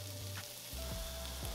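Garlic paste sizzling in a pot of smoked chili, a short burst of bright, steady frying hiss with a couple of soft stirring scrapes.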